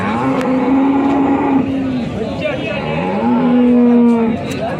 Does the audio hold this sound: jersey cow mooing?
yes